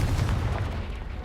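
A Confringo blasting spell goes off in Hogwarts Legacy, a short, heavy, rumbling boom that stays loud through its brief length, with no voices over it.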